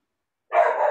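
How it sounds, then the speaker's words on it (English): A single dog bark comes after a half-second of silence, one sharp, close, fairly loud yip-like bark that trails off at the end. "That's my dog, Merkley."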